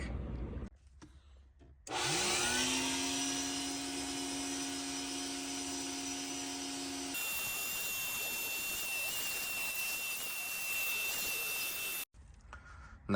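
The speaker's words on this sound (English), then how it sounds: "Time to bring back the shop vac to get a little" A shop vac runs inside an old Camry, starting with a rising whine and settling into a loud, steady roar whose pitch shifts midway as the nozzle moves, then cuts off abruptly near the end.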